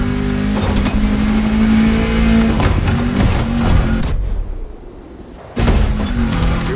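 A race car engine roars and revs loudly during a race in the Motorfest racing video game, dropping away for about a second before surging back at full volume.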